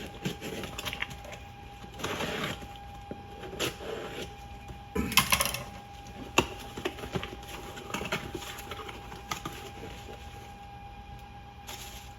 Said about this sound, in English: So let's get this thing open and see what we got inside.